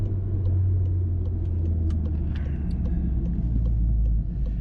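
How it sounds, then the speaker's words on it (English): A VW Golf R Mk7.5 fitted with a Remus valved catback exhaust cruising around town, a steady low droning exhaust rumble with road noise, continuous and close, no talk. "It's such a good sounding exhaust, and going around town, it's not bad."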